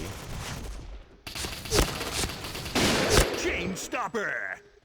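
An HK-416 assault rifle fires in the video game Point Blank, heard as rapid bursts of gunfire that come in clusters and then trail off.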